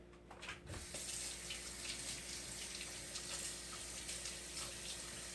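A kitchen tap runs steadily as a knife is rinsed under it, a close, even stream of water splashing in a sink with a short clatter at the start.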